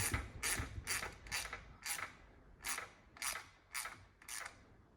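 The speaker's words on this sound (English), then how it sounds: "I like using this little wrench, so I don't, I have less of a possibility of over torquing them and stripping them out" A small wrench ratchets bolts on a Janus 250 motorcycle, eight crisp clicking bursts in an uneven rhythm, close and clear with no talking.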